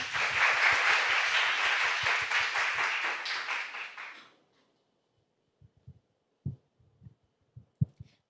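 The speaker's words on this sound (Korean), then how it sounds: "큰 박수 부탁드립니다." An audience at a Korean national student competition gives loud, dense applause that fills the room for about four seconds and then stops abruptly, followed by faint scattered thumps and shuffling.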